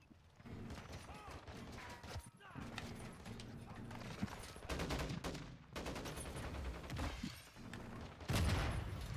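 Gunfire from the video game Modern Warfare II: dense, repeated shots and bursts run through the clip. They are loud and close, with short dips between them, and a voice talks over much of the firing.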